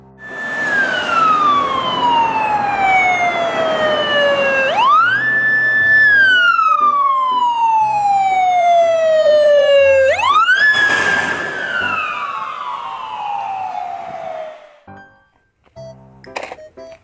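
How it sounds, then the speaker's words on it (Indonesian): Wailing ambulance siren sweeping repeatedly from high to low pitch in long slow cycles, loud and close, fading out near the end with a few faint clicks. "Di sini ada mobil ambulan."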